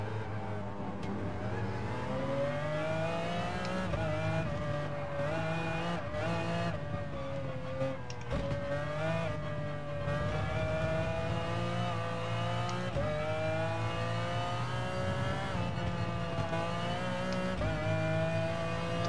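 A GR3 race car engine in Gran Turismo Sport on the Autopolis track roars continuously, its pitch climbing and dropping through gear shifts, with brief cuts between revs, loud and close throughout.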